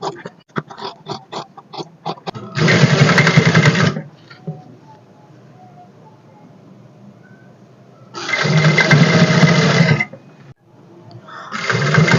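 An electric sewing machine stitches piping over lace on a fabric neck design in two loud, steady bursts of a couple of seconds each, with a third starting at the end, separated by quieter handling.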